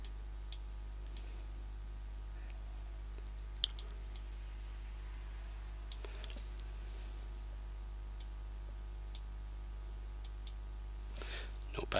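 Sparse, sharp computer mouse clicks come at irregular intervals, while a clone tool is used to paint over a pebble on sand in image editing software. The clicks are faint over a steady electrical hum, with no talk.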